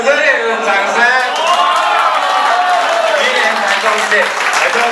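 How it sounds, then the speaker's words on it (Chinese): Warm applause from an audience at a regional association gathering: continuous loud clapping and crowd noise with voices and cheering mixed in, sustained for the whole stretch. "请给我们一个热烈的掌声"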